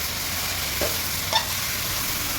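Chicken fries in a hot pan with a steady, close sizzle, and a couple of brief scraping stirs cut through the hiss. No voices are heard.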